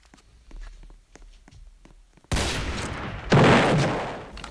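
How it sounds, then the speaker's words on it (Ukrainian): Gunfire in the Roblox game Trench War: sparse faint clicks and steps at first, then a sudden loud burst of shots and a second heavier blast that slowly fades. "А, мене снайпер бив"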